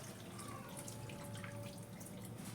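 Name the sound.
glass of water poured into chicken curry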